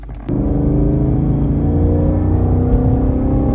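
A Ford Mustang GT 5.0 (S550) engine drones steadily through a slow pull from 2500 to 5000 RPM, loud and close after a sudden start, its pitch climbing gradually and evenly.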